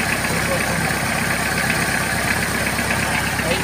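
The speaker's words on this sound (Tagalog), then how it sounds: "Tahimik ang makina, tahimik." A stock turbocharged car engine idles quietly with a steady, even, low mechanical hum and faint vibration, holding constant throughout at close range.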